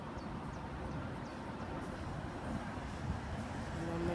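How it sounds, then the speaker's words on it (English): Trams in Prague pass underneath a high vantage point, giving a steady, fairly faint rumble of rail traffic and city noise that swells slightly near the end. "And then there's just trams just passing underneath"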